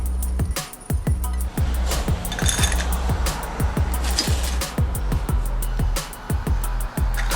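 Spoon stirring vanilla syrup into cold brew coffee in a small 12 oz cup, a fast run of bright clinks and taps against the cup over a low steady hum, with no speech.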